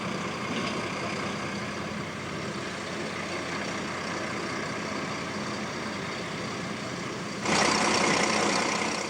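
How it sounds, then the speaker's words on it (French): A BB 66000 diesel locomotive with its original Pielstick V12 PA485 engine of 1800 horsepower runs with a steady, loud, broad rumble that holds level throughout, then swells into a brighter, louder roar near the end. "Toutes ces machines ont toujours le moteur Pielstick d'origine, le V12 PA485 qui développe 1800 chevaux."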